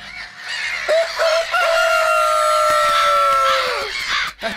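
A rooster crows loudly and close by, one long drawn-out call with a few short clucks around it.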